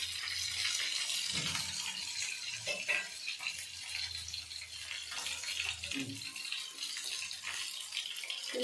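Rohu fish sizzling as it fries in a pan for a village-style masala curry, a steady close hiss with small crackles and occasional scrapes running throughout, no talking.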